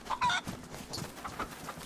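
Chicken in a survival video game on the Eden map, a few short, close clucks near the start, followed by softer scattered game sounds with no talking.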